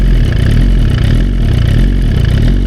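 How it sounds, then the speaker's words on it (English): Suzuki GSX-R motorcycle engine turning over at barely any throttle in first gear, a steady low rumbling idle that sounds strained and labored, close and continuous with no talk. "Try to roll the bike, and this is with barely any gas. You can hear the bike struggling."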